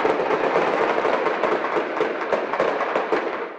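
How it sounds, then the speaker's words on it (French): Dense, continuous crackle of rapid gunfire bursts during a violent police assault on an apartment, loud and sustained with sharp irregular reports throughout and no speech. "des rafales de tirs retentissent"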